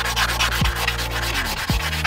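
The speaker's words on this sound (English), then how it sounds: "As you're sanding, like I said before, the wheels are already painted, so you want to be careful not to sand through the paint" Waterproof sandpaper, dipped in water, rubs back and forth across an already painted wheel in quick, even wet-sanding strokes, close and steady, with a couple of lower swoops mid-stroke.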